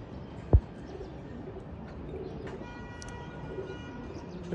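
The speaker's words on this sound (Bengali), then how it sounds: "এটা একটা কাটামনি, কালাগোলা স্টাইলের কাটামনি কবুতর" Katamoni pigeons of the kalagola style murmur in a cage, soft low cooing in a steady background with one sharp knock early on and faint higher chirps near the end.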